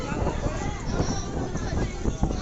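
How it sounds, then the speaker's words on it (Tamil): Strong wind roars and buffets steadily outdoors at a temple in Sholinganallur, a loud, unbroken rushing that fills the whole stretch, with faint voices murmuring underneath. "போகலாம் காற்று செம காத்து"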